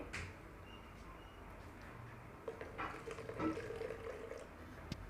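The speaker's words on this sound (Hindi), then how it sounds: "अब हम इसमें थोड़ा सा पानी डाल देंगे" Water poured into a blended yogurt and gram flour mixture for kadhi makes a faint trickle and soft splashing, with a few light clinks of a pot or utensil, quiet and close, with no voices.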